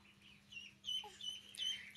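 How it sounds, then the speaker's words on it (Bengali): Ducklings calling close by as they gather to eat bread, giving repeated short, high peeps in quick bursts over a faint steady background hum. "আসছে হাঁসের বাচ্চা"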